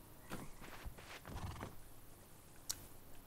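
Horse hooves clip-clop in the survival video game Rust, a steady walking patter at moderate distance with a faint whinny, heard alone without talk.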